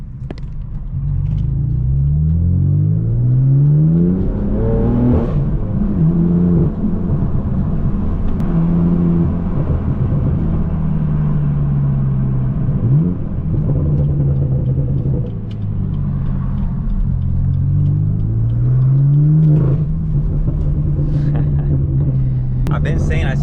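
Manual BMW M4 F82 with a low, loud setup, its engine rumbling and rising in repeated revving sweeps as it drives, strong and close throughout the stretch with a steady drone between pulls.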